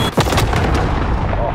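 A cruise missile strike in Call of Duty Modern Warfare on PS4 lands with a sharp, loud blast, then a dense, sustained rumbling roar that fills the scene close by.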